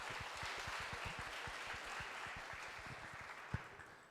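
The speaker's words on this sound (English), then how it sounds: "Please give them another round of applause." An audience at an international student summit applauds steadily, a moderate, somewhat distant wash of clapping that fades slightly toward the end.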